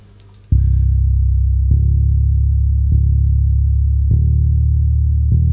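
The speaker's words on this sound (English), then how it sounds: "I have just added a simple bass from the Logic library" Simple bass from the Logic library, a loud, deep sustained synth bass tone entering after a short quiet lead-in and re-struck every second or so, each note decaying slightly, with no talk.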